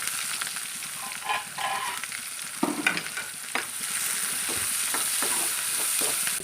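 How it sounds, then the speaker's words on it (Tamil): Sliced onions sizzle steadily in a hot pan, a constant frying hiss with occasional clinks and scrapes of stirring, sautéing until golden for an ivy gourd gravy. "அதை நான் போட்டு வதக்கிக்கிறேன்."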